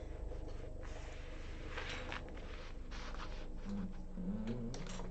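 A sewing machine left running on its own, a faint, steady mechanical whir with light rattling, heard close and alone.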